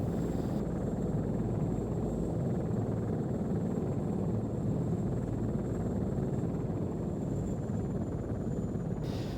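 A helicopter in the Arma 3 military game lands with a steady, heavy rotor drone and engine rumble, constant and close throughout with no other sounds.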